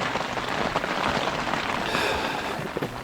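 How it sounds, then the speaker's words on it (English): Steady rain falls at night on a tent at Bears Ears National Monument in Utah, a dense continuous patter close around the listener with no voices. "Rain and more rain. And this is what it sounded like every single night."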